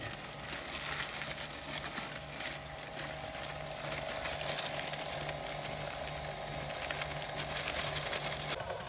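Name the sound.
electric mixer on low speed mixing flour into batter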